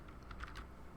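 Typing on a Brazilian-layout computer keyboard, a few quick faint key clicks in a short burst, close and quiet with no talking.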